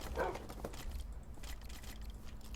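Wolf-dogs in the video game Minecraft, giving a short yelping bark near the start followed by faint whiny dog noises over a quiet game background.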